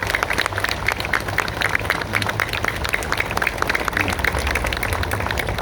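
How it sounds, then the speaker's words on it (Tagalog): A crowd at a public event applauding, dense continuous clapping at steady volume throughout. "Pwede ba palakpakan natin ng pinakamalakas yung palakpak?"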